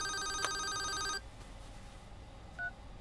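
A telephone rings loudly and steadily for about a second, then cuts off, leaving a quiet room with a brief faint tone afterward.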